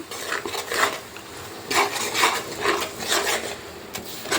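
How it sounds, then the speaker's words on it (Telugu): Ginger garlic paste fries in a pan for chicken pickle while a spoon stirs it, making close, repeated scraping and rasping strokes over a faint sizzle. "ఇది అల్లం వెల్లుల్లి పేస్ట్ దీన్ని వేయించుకోవాలి"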